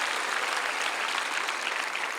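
An outdoor crowd at a peace and unification prayer rally at the War Memorial's Peace Plaza in Seoul bursts into sustained, even clapping, a dense wash of many hands with no voices on top.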